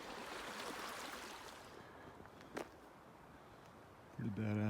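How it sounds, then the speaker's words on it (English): Water rushes down a small water chute in the Arizona backcountry with a steady, faint outdoor flowing hiss, and a voice comes in near the end. "Pretty badass little water chute."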